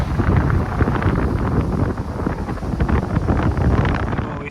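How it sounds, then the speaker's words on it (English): Strong gusting wind buffets the microphone on an ocean coastline, a loud, continuous broadband roar with no voices. "because it's very windy"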